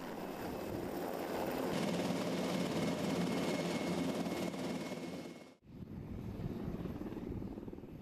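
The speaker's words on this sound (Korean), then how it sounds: "이 훈련에 투입된 헬기가 바로 한국항공우주산업이 개발한 최초의 국산 헬기 수리온." A KAI Surion, the first Korean-made helicopter, flies during an army special-forces fast-rope training exercise. Its rotor and engine roar is loud and steady for about five and a half seconds, then cuts abruptly to a quieter, different background noise.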